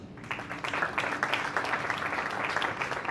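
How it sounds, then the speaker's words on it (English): Audience applause at a community event hosted with a Vancouver consulate: a dense, steady wash of many hands clapping, fairly loud and continuous for the whole stretch, without talk. "they deserve a huge round of applause"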